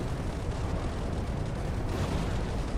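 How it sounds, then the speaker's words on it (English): Soviet tactical artillery nukes from the strategy game ICBM Escalation burst as a continuous, heavy rumbling roar of overlapping detonations, loud and sustained with no clear gaps. "Soviet artillery nukes are continuing to rain down"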